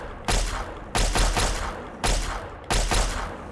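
Energy pistol fire in Fallout 3: four loud, sharp shots spaced roughly evenly, each with a short burst of crackling decay, heard alone.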